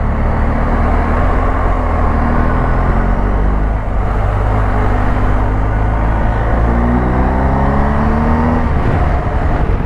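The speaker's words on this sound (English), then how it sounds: "It's always a pleasure to ride this bike." A motorcycle is ridden along a road, its engine droning loud and steady with shifting harmonic tones and constant wind rush throughout.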